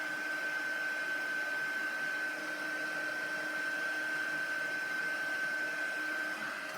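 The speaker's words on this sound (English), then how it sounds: "I'm just using my heat gun and just drying off that ink" A heat gun blows hot air to dry ink on a handmade card. It gives off a steady, moderately loud motor hum and air rush with a sustained whine, running continuously with no pauses.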